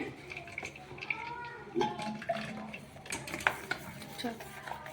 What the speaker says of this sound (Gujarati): તે વાસણમાં આપણે બધું ગાળી લઈએ